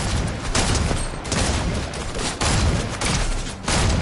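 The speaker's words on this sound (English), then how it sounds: "This gun, this is probably one of the better shotguns." Shotgun fire in the video game Fortnite, a pump-style shotgun, comes as loud dense blasts at irregular intervals, several bursts overlapping with continuous battle noise across the span.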